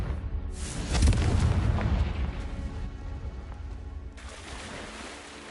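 Confringo blasting curse exploding in the Hogwarts Legacy video game, a deep booming blast that swells and rolls off over several seconds, loud and close, with no talking.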